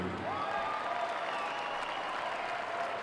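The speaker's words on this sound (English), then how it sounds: "Let's give another round of applause to Jeff, Dolores, and Mark Murphy." An audience applauds award recipients at a South Dakota high school boys basketball championship event. The clapping is a dense, steady wash heard alone and lasts throughout.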